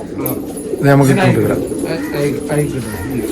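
Pigeons cooing in a loft, soft repeated throaty coos layered over one another, close by, with people talking in the background.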